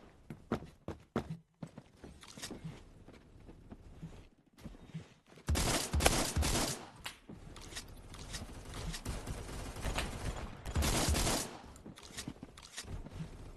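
An M16A1 rifle firing in the video game Phantom Forces: quiet, scattered shots and footsteps give way to two dense bursts of rapid fire, one long and one shorter, amid game noise.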